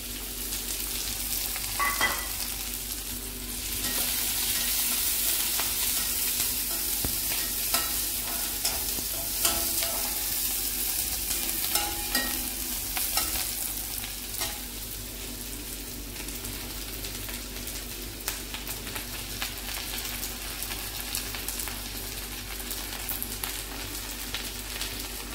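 Onion, two dried red chilies and curry leaves fry in a pan for tomato rice made from leftover rice, giving a steady close sizzle with occasional stirring scrapes and clicks throughout, with no talk.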